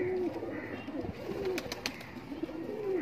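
Pigeons coo in soft repeated rolling phrases at a breeder's loft in Kasur, the low calls recurring steadily over a busy background hum, with a few brief sharper chirps.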